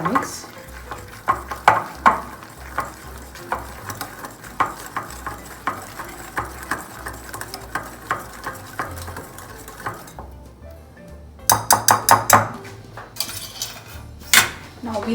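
A spoon stirs fig pulp into a jaggery cookie dough mixture in a bowl, with repeated close scraping strokes and light clinks, a short pause, then a quicker burst of stirring.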